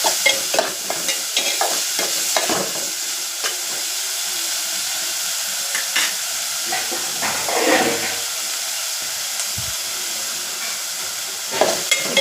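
Onions sauté in a pan over a low flame, a loud steady hiss and sizzle with intermittent stirring scrapes and clatters near the start and end.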